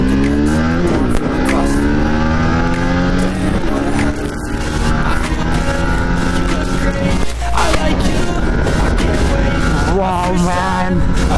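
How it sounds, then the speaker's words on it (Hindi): A 2023 Yamaha MT-15 motorcycle being ridden, its engine revving loudly through rising and falling gear changes for several seconds, with wind noise and no speech. "let's take this machine for a short spin and let's see what Yamaha gives in this motorcycle"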